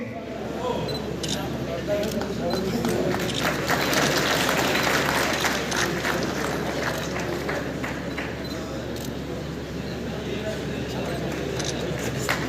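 A crowd applauding at an outdoor village event held against drugs and violence, with long, even clapping over a low steady hum, scattered sharp clicks and voices in the background.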